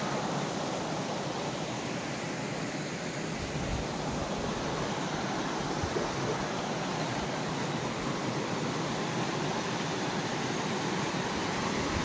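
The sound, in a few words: waterfall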